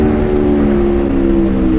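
A 2019 Aprilia RSV4 1100 Factory motorcycle engine under way, a loud, steady droning roar with a sustained tonal whine, heard close up while riding.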